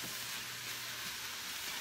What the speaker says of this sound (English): So I'm just letting this kind of saute a little bit.